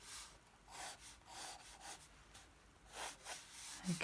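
Cellophane rubbed by hand to smooth and straighten it, giving soft, close, repeated swishing and rustling strokes at a low level.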